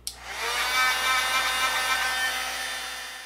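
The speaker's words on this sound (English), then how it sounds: "I'm just going to heat up my heat gun again." Heat gun blowing hot air for embossing powder on vellum card making, a sudden click on then a steady, close whirring fan hiss with a faint high whine throughout.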